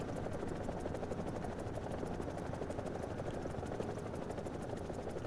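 An EC-665 Tiger attack helicopter in the combat game War Thunder flies steadily, with its rotor and engine giving a loud, continuous, rhythmic thrum throughout and no speech.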